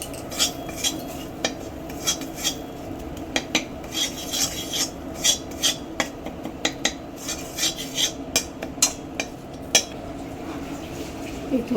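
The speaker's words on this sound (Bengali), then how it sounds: "বেসনটা একটু ভেজে নেবো।" Gram flour (besan) frying in ghee as a spatula stirs it around a pan, giving repeated close scraping and light metallic clinks at an irregular rhythm over a soft sizzle, with no voices.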